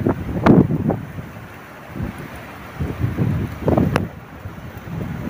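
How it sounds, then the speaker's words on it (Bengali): Strong wind gusting during a heavy rainstorm over flooded farmland, buffeting the microphone in low rumbling bursts that swell and fade several times, loud and close, with no talk. "বাতাস।"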